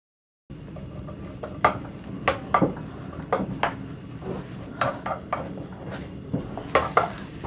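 Green onion frying in perilla oil in a pan for Korean namul, a steady soft sizzle with repeated sharp clinks and scrapes of a utensil stirring against the pan, fairly close and without talk.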